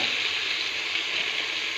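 Drumsticks (munakkaya) frying in a pan for sambar, giving a close, steady, dense sizzle throughout with no pauses or voices.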